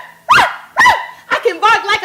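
A woman imitates a big dog barking with her voice, giving two loud separate barks followed by a quicker run of shorter yelping barks, close and clear.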